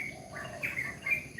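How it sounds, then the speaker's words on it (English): Birds tweeting in the morning, a few short, thin chirps and a brief trill heard faintly over low background hum, with no talking. "listening to the birds tweet"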